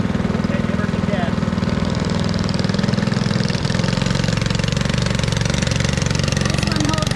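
A cyclekart's small engine revs on the Bonneville salt flats in Utah with a fast, buzzy, pulsing drone. It stays loud and close throughout.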